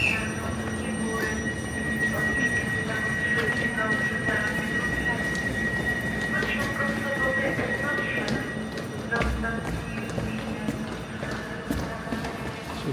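Train to Lubliniec in Poland, running during major rail works; a steady rumble of rolling wagons with squealing wheels and rhythmic clatter, with faint speech in the background.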